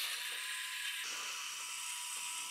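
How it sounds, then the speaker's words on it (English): Two screws being undone inside an Aqara H2 EU smart light switch after its faceplate comes off, heard as a steady, close, high-pitched whirring that shifts slightly partway through. "undo these two screws inside here"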